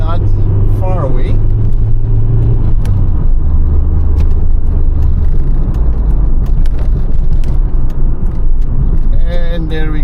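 An old car drives along a road toward a gas station, its engine rumbling loud and steady throughout, close and continuous with road noise.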